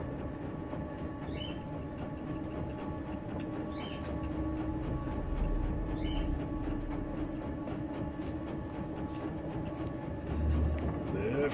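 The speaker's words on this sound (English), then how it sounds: "That train." A train rolls past in the side-scrolling puzzle game Inside, a steady low rumble of rail cars and wheels sustained throughout at moderate loudness, with faint high tones above and no talk.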